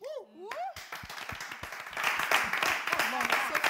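Audience applause and clapping on a French evening talk show, a dense burst of many hands building and staying steady for several seconds after a few spoken words at the start, with voices mixed in.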